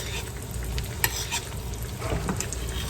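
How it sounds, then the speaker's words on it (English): A sunny side up egg basted in a skillet with hot fat, a continuous close sizzle with light spoon and stirring clinks, no voices. "I love to baste my egg"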